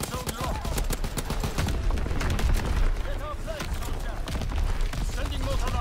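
Dense barrage of mortar rounds and gunfire in a forest capture-the-flag video game, a continuous loud clatter of overlapping blasts and shots with game voice callouts heard throughout.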